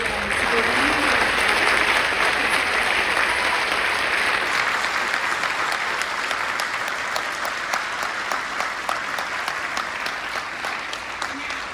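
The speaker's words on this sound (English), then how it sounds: "please join me in one more robust round of applause for all of our phenomenal awardees" A large audience at a State Department human rights defenders award ceremony applauds steadily, a full sustained round that gradually thins into more separate claps toward the end.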